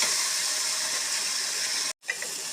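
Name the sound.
tomatoes sautéing in a pan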